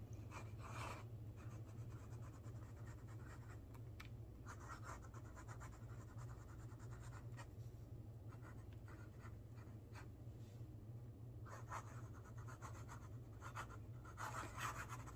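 A fountain pen with a fine nib writes on paper, making light, dry scratching strokes in short repeated bursts close up over a faint steady hum. No one speaks.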